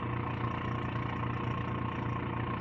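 Vacuum pump on a Karl Suss PM-8 laser trimmer running as a steady, dense mechanical hum and whir with a low tonal drone, continuous and unchanging throughout the short stretch.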